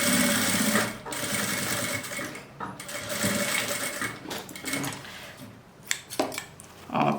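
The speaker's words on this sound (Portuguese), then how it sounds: "a gente passa uma costura reta, tá?" A sewing machine stitches a straight seam to hold a zipper on a zippered pouch, running in bursts of rapid close mechanical whirring, with short pauses and handling clicks between runs.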